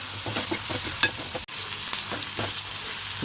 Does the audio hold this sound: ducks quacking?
no